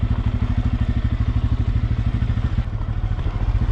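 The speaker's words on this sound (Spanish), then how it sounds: "La moto sube muy bien, muy nítida." A Bajaj Pulsar N250 motorcycle climbs over loose gravel, its engine pulsing in a steady, fast rhythm close to the microphone, with a crunching, clattering texture underneath and no talking.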